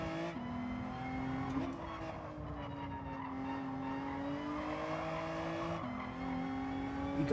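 Race car engine in Gran Turismo 7 holds a steady high drone with a clear harmonic whine, the pitch rising and dipping as the car slides around, with a brief shift near the end and no talk.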